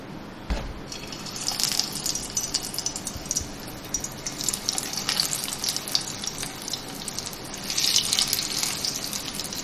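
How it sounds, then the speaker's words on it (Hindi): Beef shami kebabs shallow-frying in hot oil, a steady close sizzle and crackle with bursts of spitting that swell near the end; no talking. "और तेल गर्म हो गया, अब मैं इसमें कबाब फ्राई करती हूँ।"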